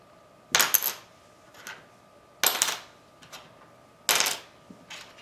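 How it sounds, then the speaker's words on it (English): A bone guitar saddle drops onto a hard surface three times in a row, each fall a bright clack followed by a short rattle, close by in a quiet room. "And we'll drop the bone one."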